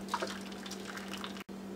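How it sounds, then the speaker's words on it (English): Hot water poured into a cooking pot of soaked, washed chickpeas, a steady near splashing fill lasting under two seconds with a brief cut near the end, no talk. "I'm going to add some hot water."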